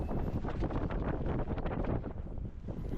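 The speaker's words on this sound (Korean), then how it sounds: "민프로님 3번 홀 바람 때문에 4번 아이언 잡았습니다" Strong, gusty wind buffeting the microphone on a golf course during a stormy late-season round, a loud, constant low roar with no voices.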